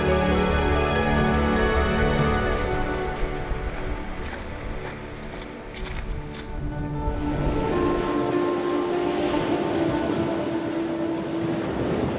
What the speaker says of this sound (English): Wherever you are around the house, you can hear the waves.